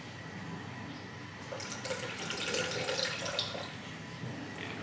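Water pours steadily into a Thermomix bowl for a few seconds, a soft continuous splashing with no one speaking.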